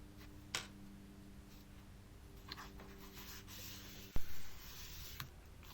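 Soft, steady scratchy rubbing of a Derwent Coloursoft colored pencil on vellum, close and quiet, with a few faint ticks and a brief knock near the end.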